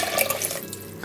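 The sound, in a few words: water poured into soup pot with split peas and lentils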